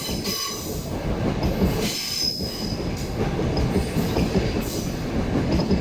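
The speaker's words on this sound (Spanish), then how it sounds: "Mete mucha bulla. Rechinan los rieles." Train wheels screech steadily on the rails of an old railway street, a loud continuous metallic squeal over rumbling cars, with no voices.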